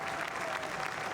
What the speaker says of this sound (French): Et là, vous applaudissez Gilles Carrez, député de droite